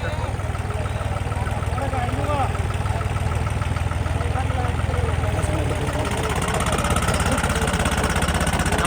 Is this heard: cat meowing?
no